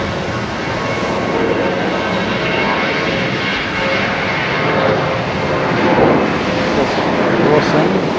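At Haneda airport, a Shanghai Airlines jet airliner crossing the field produces a strong, steady engine roar that rises slightly toward the end. Someone talks softly in the background.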